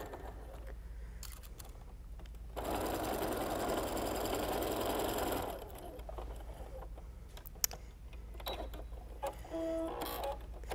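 Sewing machine stitching a quarter-inch seam on quilt pieces for a wall hanging, a steady close whir lasting about three seconds amid quiet handling noises.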